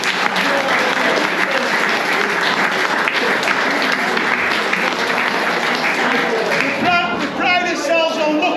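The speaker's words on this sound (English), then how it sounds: "Round of applause for lads who come every week." A room at a football club's awards night breaks into loud, sustained applause for supporters, many hands clapping continuously, with voices calling out toward the end.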